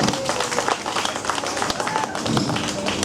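An audience at a live animal show claps loudly and steadily, a dense patter of many hands lasting about three seconds.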